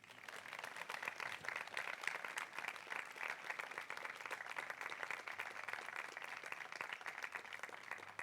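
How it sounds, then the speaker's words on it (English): Outdoor audience applause welcoming someone speaker at an evening Shabbat service, steady dense clapping from a crowd lasting throughout without a pause. "Let's give her a round of welcome with a nice round of applause."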